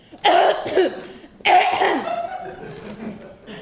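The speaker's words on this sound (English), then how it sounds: "I have this racking cough that's a terrible thing to hear" Two harsh, wet racking coughs close to the microphone in a 10th-grade school play, the second longer and trailing into a raspy, wheezing breath.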